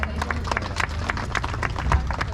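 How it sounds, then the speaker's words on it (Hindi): A crowd at a Sarna religious gathering claps loudly in a brisk, even rhythm of sharp, distinct claps, with a low rumble and faint voices behind. "तो जोर से ताली बजा दो।"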